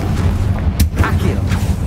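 Confringo blasting spell fired in Hogwarts Legacy: a sharp blast about midway through with low rumbling underneath and an abrupt crack, heard with steady game background noise.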